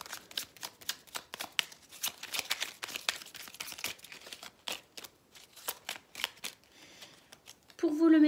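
Oracle message cards being shuffled by hand, a rapid run of crisp riffling flutters and slaps in irregular bursts, ending with a brief louder rustle as a card is drawn.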